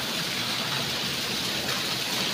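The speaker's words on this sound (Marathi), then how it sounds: "धबधबे असे वाहतात आहे" A waterfall pours down a mountainside, a dense, steady roar of falling water filling the short stretch without a break.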